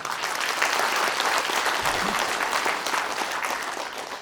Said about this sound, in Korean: 최규하 대통령께 다시 한번 박수를 보내드립시다